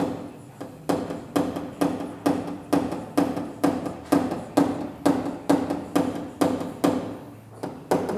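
A small hammer taps out a dent in a car body panel during paintless dent repair. The sharp, close metallic knocks come in a steady, brisk rhythm of about two strikes per second, with no talking.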